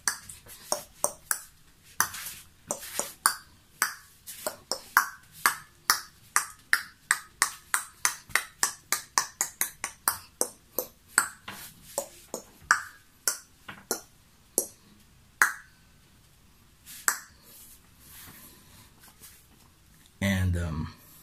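A voice mimics a bouncing ping pong ball with a long run of quick, sharp clicks that speed up and thin out, ending in a brief burst.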